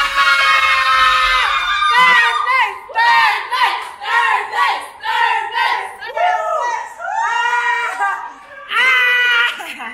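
A crowd at a Thailand training camp shouts in repeated loud, close bursts that rise and fall with short gaps over about ten seconds, the voices high and strained.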